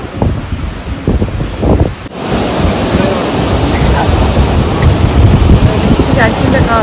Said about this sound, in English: You will realize how much of wind is here.